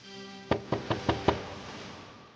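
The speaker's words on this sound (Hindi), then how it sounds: "दरवाजे की खटखटाने की आवाज आते ही" Five quick knocks on a wooden door in a horror story, evenly spaced and fairly close, each sharp rap ringing briefly before fading into quiet.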